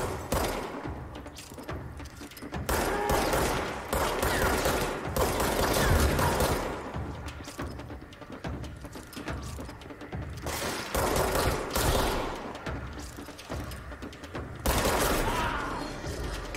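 Bursts of gunfire in the video game Control shoot down a barrier, repeated rapid volleys with short pauses between them, loud and close, with no talking.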